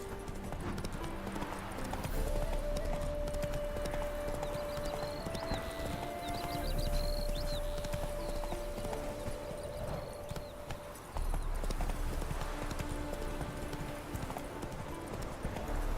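Hooves of Roach, a horse in The Witcher 3 video game, clip-clop steadily at a gallop with a few whinnies, under continuous game music and ambience; a voice speaks briefly.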